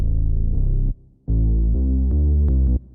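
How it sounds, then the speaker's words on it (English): A thick, buzzing Reese synth bass with a throbbing low end plays sustained notes, cutting out briefly before resuming, loud and close with no voices. "I have the synth bass"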